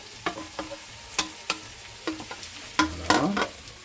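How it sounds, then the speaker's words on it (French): Bell peppers fry with softened onions in a pan for Moroccan tuna cigars, a soft sizzle broken by scattered clicks and scrapes of stirring, with a louder clattering stir near the end and no talking. "Donc on ajoute et on fait cuire les poivrons."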